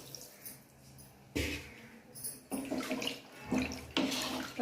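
Water splashes and pours into a cooking pot for biryani in several bursts, with a brief pause between pours; close and moderately loud, no talking.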